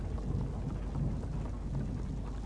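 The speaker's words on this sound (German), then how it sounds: "Hier regnet es überall rein. Hört man doch." Steady rain and a low rumble of thunder in the video game Little Nightmares, a continuous storm wash that stays even and close, with no voices over it.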